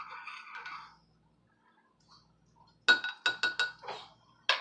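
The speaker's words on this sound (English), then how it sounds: "Now I have my spoon. I'm going to stir it." A metal spoon stirs coffee with creamer and sugar in a mug, making a soft swirl at first, then after a pause a quick run of bright clinks against the rim, close and distinct.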